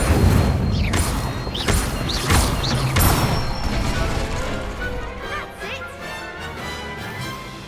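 Spell effects in the Hogwarts Legacy video game, including an Incendio fire spell cast during wand training: a series of bright whooshing bursts and impacts in quick succession, loud and close, easing into a softer crackling tail.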